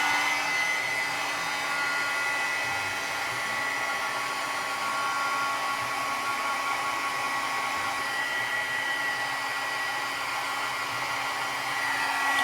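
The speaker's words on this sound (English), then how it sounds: "This is my embossing gun that you're going to need to emboss." Embossing heat gun blowing steadily for a craft project, a loud, continuous whooshing roar with a faint whine that stays constant throughout, with no talking over it.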